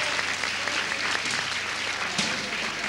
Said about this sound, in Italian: Facciamo un applauso tutti quanti insieme.